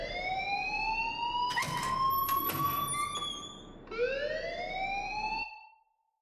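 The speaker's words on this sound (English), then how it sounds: "please turn off that alarm" In a video game, an alarm blares as a loud, rising and falling siren-like wail, sweeping up in two long cycles with brief clanks between them, then cutting off abruptly, with no talking.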